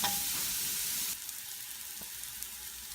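Zucchini and onion sauté in a pan with a loud, close sizzle that drops suddenly to a softer, steady frying hiss, with a light stir-like tap or two.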